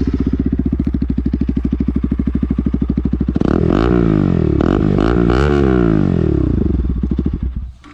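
A Bajaj Pulsar RS200 motorcycle fitted with an aftermarket Akrapovic exhaust idles with a loud, rapid thumping putter, then revs up sharply several times with rising and falling roars before settling back down, recorded close by.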